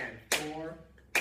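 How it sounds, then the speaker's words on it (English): Two sharp hand claps about a second apart, marking a counted rhythm in a classroom music lesson, with a voice speaking softly between them. "I'll clap and count number 45"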